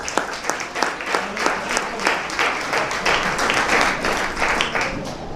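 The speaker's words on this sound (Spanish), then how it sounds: "Dale palmas a Dios para que no me..." A church congregation claps along in praise during a Spanish-language sermon, sharp rhythmic handclaps repeating steadily over a dense, loud wash of applause for the whole stretch.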